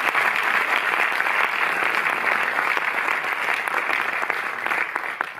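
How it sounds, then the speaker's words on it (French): Audience applause in a Paris cinémathèque screening hall, a dense, steady wash of many hands clapping close by that holds evenly for several seconds and tapers slightly at the end. "Vous pouvez les applaudir tous les deux."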